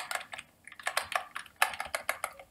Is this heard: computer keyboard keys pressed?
yes